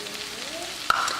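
Cooked yellow veggie rice gets stirred in a pot, giving a soft, continuous sizzle with one sharp metallic clink of the spoon partway through.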